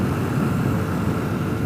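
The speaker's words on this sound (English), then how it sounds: "Sounds like a jet going over." A jet aircraft passes overhead near Tinker Air Force Base as a continuous loud, broadband roar that stays steady throughout.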